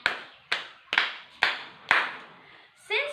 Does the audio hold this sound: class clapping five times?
yes